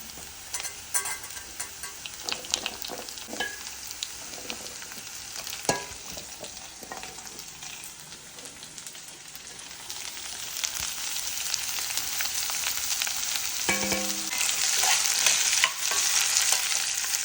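Mango pieces fry with softened onions in a pan, giving a close, crackling sizzle broken by stirring scrapes and taps, with the hiss growing louder toward the end.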